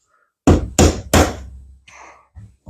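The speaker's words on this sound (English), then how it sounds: "Grab the hammer. I'm going to have to tap this a little bit to get it to move." A hammer taps a stuck part on a Kawasaki FH680D engine in a Massey 1655 mower, giving three loud, close metallic knocks in quick succession, followed by softer clunks and shuffling.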